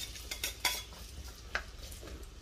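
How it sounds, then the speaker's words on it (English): A utensil clinks and scrapes against a pan as onions are stirred in hot oil for spicy tuna and sweetcorn fishcakes, giving a few sharp taps over a quiet background. "Okay, so once your oil is hot, you can then put your onions straight in."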